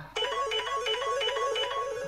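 A telephone plays its ringtone indoors, a steady repeating electronic melody that starts abruptly and pulses in even cycles, moderately loud and alone.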